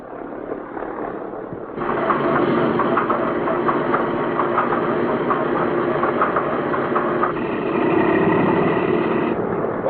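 The number 2 radial engine of a B-17 bomber starts during ground operations, catching after a quieter stretch of another engine running. It then settles into a loud, steady, throbbing idle with a deep low rumble.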